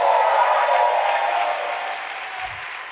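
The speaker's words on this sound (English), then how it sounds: "You should clap your hands and" Church congregation applauding and cheering at a lively sermon, a dense, steady wash of clapping and crowd noise that tapers slightly toward the end.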